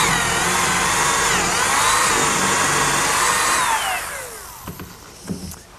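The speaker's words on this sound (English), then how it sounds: "Now I'll drill a hole with a 3/8 inch bit for the unthreaded portion of the bolt" A power drill with a 3/8 inch bit bores a hole in picnic table lumber, a steady loud whine that climbs and falls in pitch before winding down, followed by a few faint knocks.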